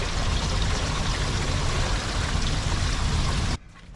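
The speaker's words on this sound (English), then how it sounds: "We're doing the second flush of the black tank" Water rushes steadily and loudly through an RV black tank during a flush, a dense continuous gush that stops abruptly near the end, leaving quiet.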